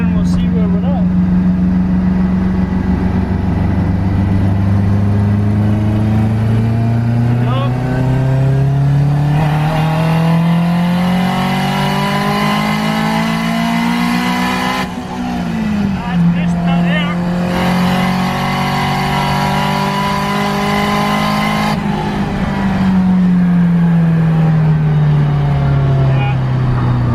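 A boost-creeping Mazda RX7 rotary engine pulls hard in third gear, its loud, near drone rising steadily in pitch, dipping briefly at a shift-like break, then climbing again and easing off toward the end.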